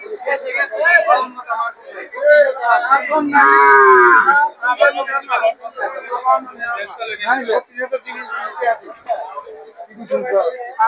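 A bull moos loudly for a couple of seconds at a busy cattle market, one long low call standing out amid almost constant nearby talking.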